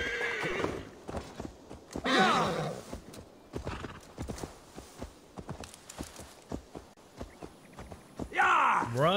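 A horse in the Assassin's Creed Valhalla video game neighs loudly at the start and again near the end, with clip-clopping hooves walking in between and a voice speaking over it.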